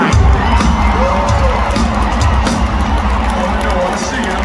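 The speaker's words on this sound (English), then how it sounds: "Huge round of applause for our friends who allow us to share this stage." Loud stadium crowd at a rock concert at US Bank Stadium in Minneapolis, a dense continuous roar of cheering and whoops with an announcer's voice over it.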